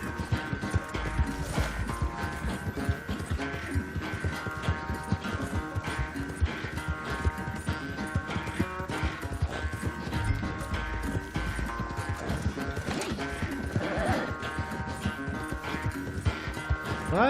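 Galloping horse in Red Dead Redemption 2, a steady run of hoofbeats under dense game music and effects, with a brief whinny buried in the mix.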